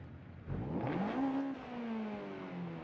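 A Honda Civic in Forza Horizon 5 revs hard, its engine and exhaust note climbing in pitch, then holding a steady whining drone, heard close and alone.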